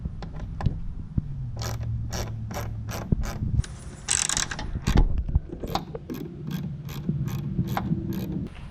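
Bursts of quick rapid clicks from a socket ratchet loosening headlight bolts on a Ford F-250 Powerstroke truck, repeated in short runs with small metallic clunks between them, close up.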